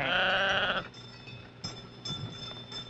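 Sheep kept by Navajo shepherds bleat loudly and close by, one strong wavering bleat followed by a few fainter calls against quiet outdoor background.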